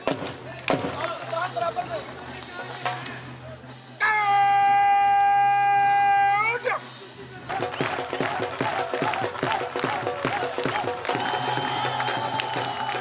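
A crowd claps and cheers at a border guard parade ceremony between Pakistan and India, dense rapid clapping and crowd noise surging around a long sustained horn-like tone, with voices mixed into the din.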